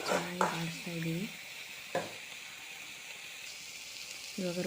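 Fried rice stir-fried in a pan in a home kitchen, a continuous close sizzle broken by a few spatula scrapes and stirring strokes, with a short voice-like sound at the start and near the end.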